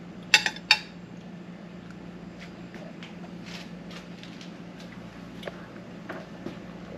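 Macaroni and cheese is spread into a casserole dish with a utensil, starting with two sharp clinks against the dish, then soft, faint scrapes and taps over a quiet room hum.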